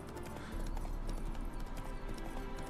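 Horse hooves clip-clop steadily at close range in The Witcher 3 game, a continuous trotting rhythm with a faint whinny mixed in and no clear speech.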